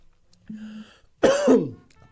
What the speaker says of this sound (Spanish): justo me agarró una tos